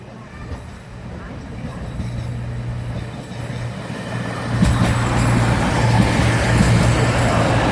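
A Class 220 four-car non-tilting diesel cross-country train on a Bournemouth to Manchester service sits at a station platform, a steady engine rumble that swells louder and rougher partway through, heard close with outdoor station ambience.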